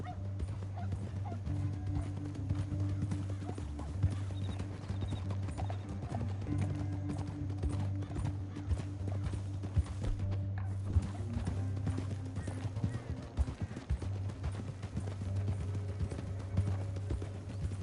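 Horse hooves clip-clop steadily in the Red Dead Redemption video game, a continuous trotting rhythm over a low droning background, with a dog yipping and a horse neighing faintly at times.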